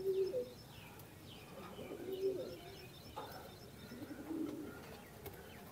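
Fancy pigeons in a cage, soft repeated cooing phrases with a few small chirps, close and gentle throughout, no talk.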